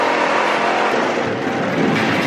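A loud, continuous rushing roar fills the air as the Vampire roller coaster at Chessington World of Adventures thunders past nearby, with no clear breaks.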